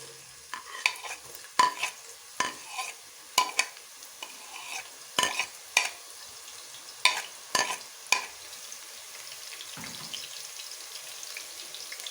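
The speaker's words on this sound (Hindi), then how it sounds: "ये ऑयल थोड़ा गर्म हो चुका है, अब मैं इसमें ये प्याज डाल दूंगी।" Onions dropped into heated oil in a pan for a dhaba-style moong dal tadka, a soft sizzle broken by a string of sharp spatula clicks and stirs that thin out toward the end, close and quiet, no talking.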